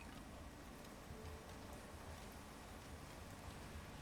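Steady rain falling in the survival game Clanfolk, a dense, even hiss of drops with faint ticking, continuous and unbroken with no talking.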